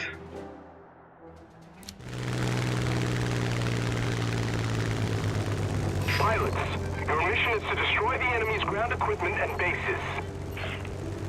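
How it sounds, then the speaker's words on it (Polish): Droning propeller plane engine in the video game War Thunder starts up after a quiet moment and hums steadily, with chirpy electronic effects layered over it later. "dobierzmy jakiś samolot. Ciekawy. I wyruszmy w lot."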